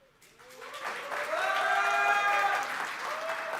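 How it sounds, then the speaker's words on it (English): Applause swells from a launch-event audience for the Redmi 4 phone in India, rising quickly to a sustained peak over a bed of stage music, then easing slightly. "Biggest applause for that so far."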